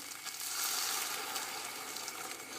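Mushroom risotto sizzling steadily in a pan just after some stock is poured in, a constant bright, hissing crackle at close range with no voices.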